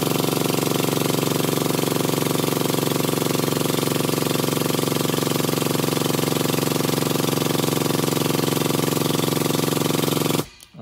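A JD Squared Model 3 tubing bender converted to hydraulic drive bends pipe with a steady, loud, droning mechanical hum that stays constant for about ten seconds and then cuts off abruptly.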